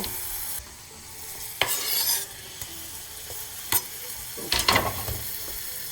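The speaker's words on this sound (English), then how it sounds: "they start sizzling, they're gonna get nice and soft" Onions and tomatoes sizzle steadily in a pan for an egg white omelet, with a few louder bursts of stirring and scraping over the constant close frying hiss.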